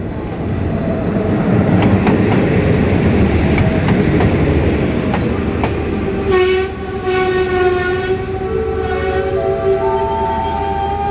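Hitachi 4506 locomotive hauling Special Express 32 at Ratchaburi station, its loud diesel rumble and rolling wagons close by, then horn-like tones and squealing brakes as it slows, with no voices.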